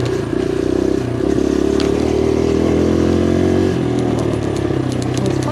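A Kawasaki KLX140RF dirt bike revs and drones up close while riding on trails, the engine note rising and falling with light clatter and scraping from the terrain.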